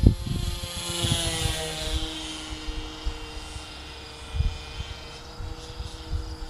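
A Harbor Freight P-51 Mustang RC model plane flies in a crosswind, its small engine droning and shifting pitch as it passes, loudest at the start and fading with distance, with brief bumps of wind and handling noise.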